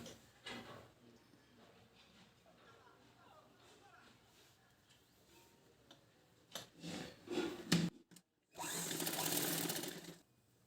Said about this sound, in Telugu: ఇప్పుడు ఇక్కడ కింద వైపు పట్టి మడిచి కుట్టుకోవాలి